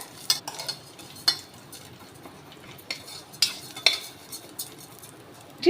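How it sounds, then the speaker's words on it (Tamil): Moong dal being roasted in ghee in a cooker while a spoon scrapes and stirs it, giving scattered metallic clinks over a faint sizzle, close up and irregular. "பாசி பருப்பு எடுத்துக்கோங்க இந்த நெய்யில் வறுத்து எடுத்துக்கலாம்"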